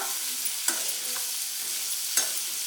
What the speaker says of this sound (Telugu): ఇవన్నీ ఒకసారి బాగా కలుపుకోండి